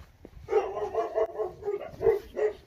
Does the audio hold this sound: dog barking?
yes